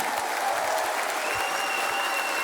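Steady applause from an audience at the Miss Polski 2023 final gala, a dense continuous clatter of clapping hands at moderate volume with no pauses.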